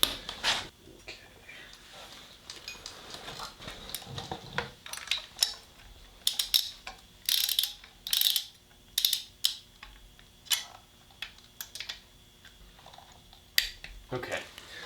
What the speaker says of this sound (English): tightening these two and tightening this are gonna tighten the gap that was here